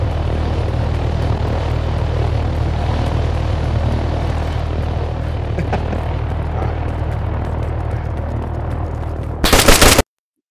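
Propeller aircraft engine droning loudly and steadily throughout a DayZ game scene, with bursts of gunfire crackling in the mix and a sharp loud burst near the end before the sound cuts off.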